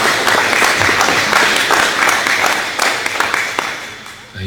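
Applause from an audience at a meeting, a loud continuous wash of clapping that holds steady for several seconds before thinning out near the end.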